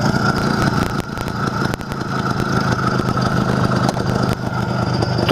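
An IZh Planeta 5 motorcycle engine idling slightly fast after a crankshaft seal replacement, a loud, steady, close chugging with a mechanical rattle running throughout, no voices.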